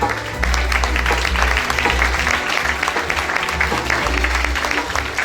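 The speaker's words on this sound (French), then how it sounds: "On peut les applaudir." Audience applause at a charity fashion show for cancer, a dense burst of clapping from a crowd that carries on steadily, with a low background hum underneath.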